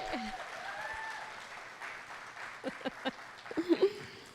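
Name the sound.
audience round of applause at fundraiser breakfast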